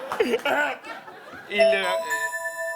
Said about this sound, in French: c'est la cloche, chouchou